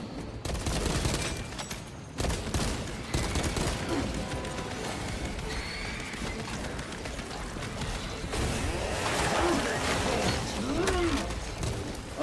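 Orbital guns fire in a video game in dense, rolling bursts of heavy fusillade, loud and sustained with roaring, rumbling blasts layered over one another.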